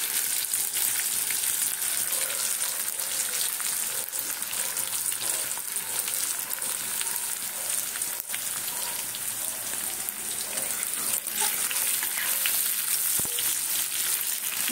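Vegetables frying crisp in hot oil in a pan, a dense, steady crackling sizzle that holds evenly throughout with a few faint scrapes, close by and no voices.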